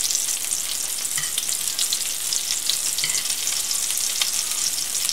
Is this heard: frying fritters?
yes